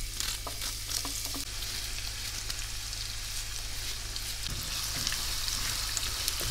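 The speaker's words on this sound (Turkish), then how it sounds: "Soğanla birlikte de kavrulmaya devam edecekler" Steady sizzling of chopped onions sautéing in a hot pan for Turkish iç pilav, with a few light stirring clicks, continuous and close.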